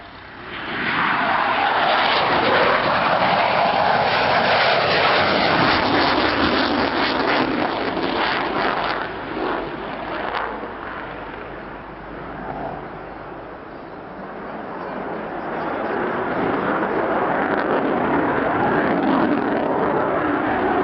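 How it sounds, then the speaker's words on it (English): Panavia Tornado F2 jet fighter making a simulated roller landing at an airshow, its loud jet roar sustained throughout, dipping slightly midway before swelling again, heard alone with no talk. "In for a simulated roller landing, the Panavia Tornado F2."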